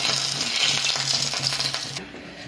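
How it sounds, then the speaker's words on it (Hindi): Batata vada fry in hot oil with a dense, loud, continuous sizzle and bubbling close up, a low hum beneath it, and the crackle thins suddenly near the end, with no talk. "अभी ये बाकी के जो रह गए हैं उनको भी मैं फ्राई कर लूँगी।"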